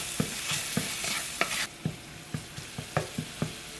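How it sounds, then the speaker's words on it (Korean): Minced garlic fries in olive oil in a small pan, a steady sizzle with a dozen or so sharp stirring clicks and scrapes in an uneven rhythm, close and fairly loud, with no voices. "작은 팬에 다진 마늘 1큰술과 올리브오일 2큰술 넣어줄게요"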